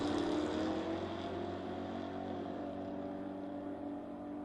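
A Ford Fairmont drag car leaves the starting line at a drag racing event, its engine roaring steadily at a distance with a sustained, droning rumble and no talk.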